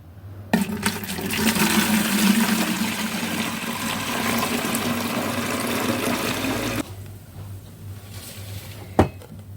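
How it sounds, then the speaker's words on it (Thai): Boiled cola liquid gushes into a fermenting tank in a strong, steady rush lasting several seconds, then stops abruptly, leaving a quiet room and a single sharp knock. "เราจะเท น้ำโคลานะคะลงไปในถังเลย"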